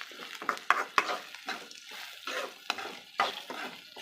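Okra stir-fried in oil in a pan gives a quiet sizzle, broken by repeated scraping strokes of a spatula and a few sharp clinks against the pan.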